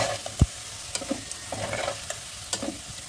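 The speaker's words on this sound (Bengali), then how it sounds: "আলুটা লাল লাল করে আমি ভেজে তুলে রাখবো।" Potato pieces fry in hot oil until reddish-brown, for a bottle gourd and prawn curry. A steady close sizzle runs throughout, broken by several sharp clicks and taps of a spatula stirring in the pan, with no voices.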